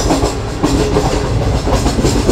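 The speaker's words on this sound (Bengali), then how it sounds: "ট্রেন চলে আসছে পরবর্তী স্টেশন চাকলালাতে" A luxury Pakistani train rumbles along the rails with a steady, loud clatter of wheels, heard from inside the carriage.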